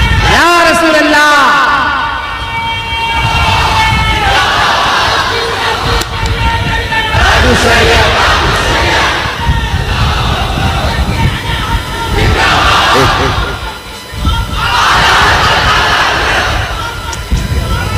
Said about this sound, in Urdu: نعرے کم لگاؤ، مجھے بھی ایئرپورٹ کے لیے نکلنا ہے